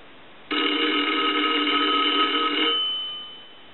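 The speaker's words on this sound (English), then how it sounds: "what we're going to do is we're going to ring the telephone" The bell of a Northern Electric three-slot touch-tone payphone rings in one continuous metallic burst lasting about two seconds, then fades away, with nothing else heard.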